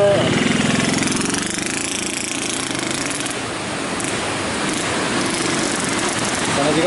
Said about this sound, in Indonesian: Sana juga masih ada motor ya sahabat.